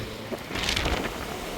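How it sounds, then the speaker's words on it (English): Gusty wind buffeting the open top deck of the Ruby Princess cruise ship at sea, a broad rushing blast that swells in the middle and then settles, with no talking. "Still a little windy."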